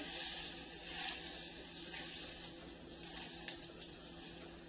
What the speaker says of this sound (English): The butter's almost melted.